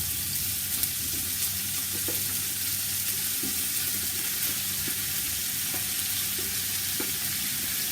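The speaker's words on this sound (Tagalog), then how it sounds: "Haluin lang natin para yung bawang at saka yung garlic hindi siya masusunog" Garlic frying in a pan while being stirred, for a garlic shrimp and crab dish; a steady close sizzle with light scrapes of the spoon against the pan, continuous and even throughout.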